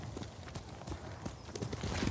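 Horse hooves clip-clopping in Ghost of Tsushima, a steady rhythmic trot of hoof beats on ground, fairly close and continuous over a low background bed, growing slightly louder toward the end.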